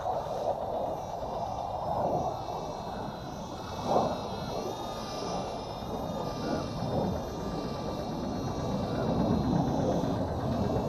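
Small S49 micro drone flying overhead under a blue sky, a steady whirring, jet-like whine that holds for the whole stretch with slight swells, fairly close and alone without talk.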